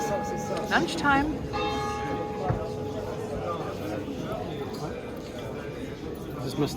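A church bell rings out in France, its sustained metallic tones lingering early on before fading. People talk over it throughout, with scattered clatter nearby.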